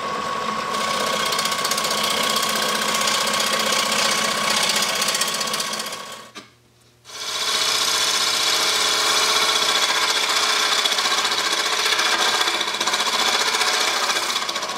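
A lathe spins a wood and resin blank with a steady whirring mechanical drone and a dense rattling hum, loud and continuous apart from a brief pause partway through, no voices.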